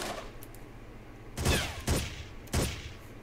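AI teammate gunfire in Ghost Recon, three sharp, fairly loud shot bursts in quick succession after a quieter stretch of distant rumbling and faint crackles.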